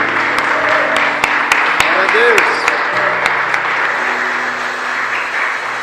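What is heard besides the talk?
applause for the Lord in church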